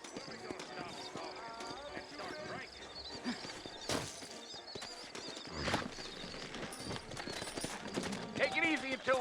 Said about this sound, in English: Vamos, súbete al caballo